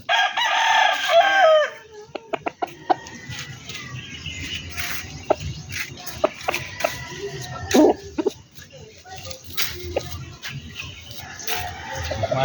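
Backyard chickens and a rooster: a loud, close crow opens, followed by scattered clucks, wing flaps and sharp pecking taps over a steady outdoor background, with further fowl calls rising intermittently.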